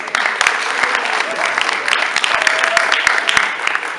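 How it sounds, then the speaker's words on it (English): Audience applause for Kris Aquino at the iflix launch event, a dense, sustained crowd ovation with sharp individual claps standing out, steady throughout, with some voices underneath. "Big round of applause for Kris"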